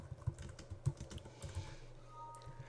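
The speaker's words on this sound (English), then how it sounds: "I'm typing in, this is the text that I want people to see." Someone types plain text on a computer keyboard nearby: quiet, irregular key clicks with a few sharper taps, then a short pause near the end.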